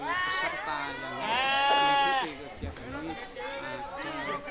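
Goat bleating loudly at an Indonesian Independence Day flag ceremony with other animals, a long wavering bleat in the middle among shorter calls, over background chatter.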